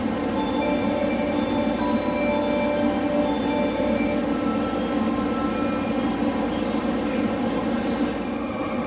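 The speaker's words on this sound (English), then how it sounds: "Riding on a train in Tokyo is a noisy and unique experience." Steady loud rumble and rolling rail noise inside a Tokyo train carriage, continuous throughout with a faint high whine, no talking.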